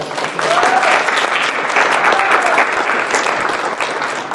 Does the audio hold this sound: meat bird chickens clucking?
no